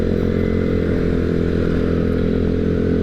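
A motorcycle engine drones loudly and steadily while riding, a close, constant low rumble with a buzzing harmonic texture and no breaks.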